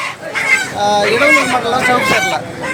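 A rooster crows loudly and close by at a chicken market, a drawn-out call mixed with the clucking of other chickens.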